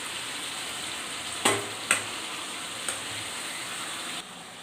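Raw jackfruit pieces are tipped into a pan of fried spice paste and sizzle steadily, with a few sharp clattering drops or stirring knocks over the quiet frying hiss before it settles lower.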